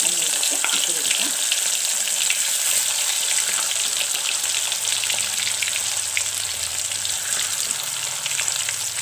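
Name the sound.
quail frying in hot oil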